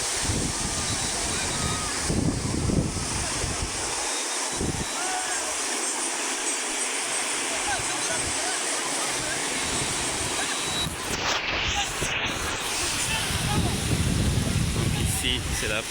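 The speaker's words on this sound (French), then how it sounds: "Ici, c'est la plage de Mohammedia. Donc il y a trop d'ambiance." Surf rolls in steadily on Mohammedia beach in Morocco, a broad continuous wash of waves with gusts of wind buffeting the microphone and a brief dropout near the middle.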